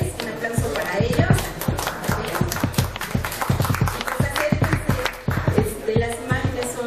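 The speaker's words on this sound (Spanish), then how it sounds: "un aplauso para ellos." An audience at a talk on posters of the social struggle from 1975 to 2000 applauds the organizers: dense, continuous crowd clapping that stays loud and busy throughout, with voices mixed in.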